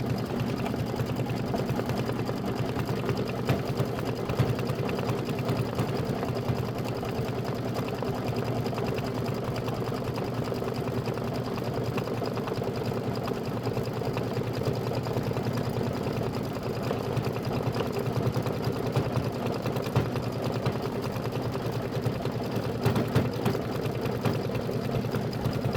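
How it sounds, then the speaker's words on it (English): A computerized embroidery machine runs steadily for the whole stretch, stitching a background placement line for a gingerbread cookie mug rug, its motor hum and rapid needle rhythm continuous and close with no talking. "And then we're stitching the background B placement line."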